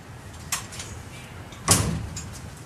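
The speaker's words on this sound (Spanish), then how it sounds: "Susana, le cierro la puerta," A door swings shut with a soft thud indoors amid low room noise, following a fainter knock or click a second earlier, in a Buenos Aires neighbourhood setting.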